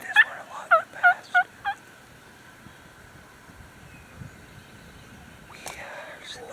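Wild turkey toms gobble in a quick run of about five loud, warbling calls, well off across a field during a spring turkey hunt, then fade into a quiet, breezy outdoor hush with a faint soft sound near the end.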